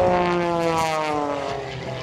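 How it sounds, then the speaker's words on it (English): An aerobatic propeller airplane performing at an air show at JBLM Air Expo produces a loud, steady engine drone that shifts slightly in pitch as it fades a little. "forcing the aircraft through a series of high-speed stall snap rolls on top of the loop"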